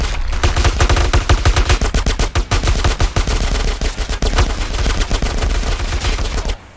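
Rapid, loud gunfire from GTA San Andreas, with dense automatic bursts and overlapping shots that go on almost without a break before cutting off at the end.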